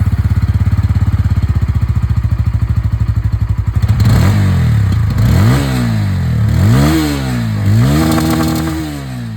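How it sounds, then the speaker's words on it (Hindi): A 2025 Bajaj Pulsar N160 motorcycle idles with a rapid, thumping exhaust beat, then revs up several times, the engine rising and falling loudly up close. "एक बाइक में से मैं आप लोगों को एग्जॉस्ट साउंड भी सुना देता हूँ।"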